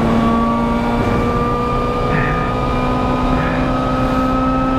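Onboard a 2015 FIA WTCC touring car at Motegi Twinring, Japan: the engine holds a loud, steady high-revving drone at full throttle with a faint rise in pitch, close and unbroken, with no clear talking.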